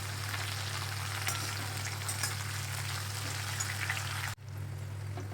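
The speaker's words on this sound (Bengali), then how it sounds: "কুচিগুলো লাল লাল করে ভেজে নেবে" Chopped pieces fried in oil until reddish, alongside bitter gourd and lentil dumplings in a home lunch dish, giving a steady dense sizzle under a constant low hum that cuts out abruptly near the end.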